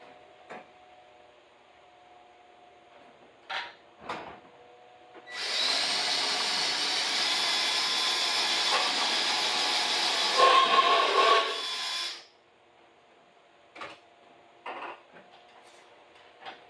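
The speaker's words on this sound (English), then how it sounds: "So let's drill off and put our lag bolt in." A power drill bores a hole for a lag bolt while a carport is converted to a garage, a steady, loud whir running about seven seconds and framed by scattered clicks and taps before and after.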